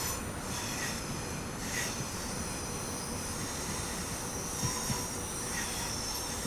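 Class 390 tilting electric train in Train Sim World 6 running the Birmingham to Crewe line near Wolverhampton, a steady dense rumble of wheels and motors with faint squeals, continuous and even throughout.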